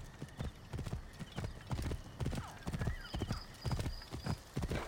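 Horse hooves clip-clop steadily through a scene from the video game Assassin's Creed Origins, with a whinny and a few brief voices mixed in.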